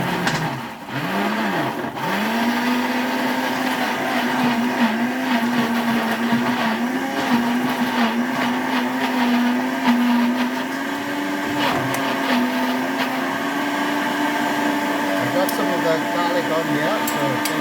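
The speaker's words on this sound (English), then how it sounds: "I don't want to overdo the grinding here" An electric blender grinding frozen garden egg and spinach runs loud and steady close up for the whole stretch, with a constant whine and brief dips in pitch near the start as the load shifts.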